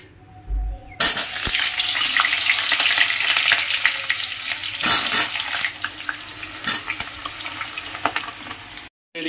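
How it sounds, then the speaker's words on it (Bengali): Potatoes for biryani fry in hot oil, a loud, dense sizzle that starts abruptly and runs on with occasional stirring clatters before cutting off near the end. "এদিকে আলু ভাজা হচ্ছে"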